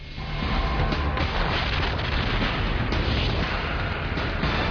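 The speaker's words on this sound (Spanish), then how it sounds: "Cada explosión arroja millones de toneladas de cenizas al cielo." A continuous, loud roaring rumble with deep booming bursts from the Mount Pinatubo volcanic eruption blasting ash nonstop, with no voices.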